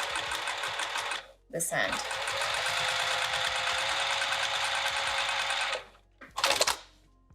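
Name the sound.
sewing machine top stitching a bag seam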